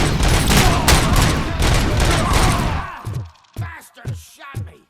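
Gunfire in RoboCop: Rogue City, a dense, loud fusillade of shots for a few seconds, then four or five separate sharp reports spaced apart as the shooting thins out.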